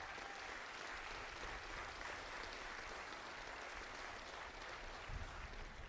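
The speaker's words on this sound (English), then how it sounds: "Let's get a round of applause." An audience applauds at the 2022 Canadian Squash Championships finals, steady sustained clapping from a crowd throughout, fairly distant and even, with no talk over it.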